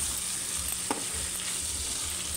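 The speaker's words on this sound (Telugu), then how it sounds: "దొండకాయలు ఫ్రై అవుతున్నాయి." Ivy gourds fry in a pan with a steady, close hiss and crackle, broken by one sharp pop partway through.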